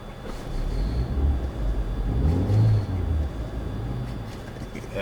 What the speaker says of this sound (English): There's Cody Rivers' truck.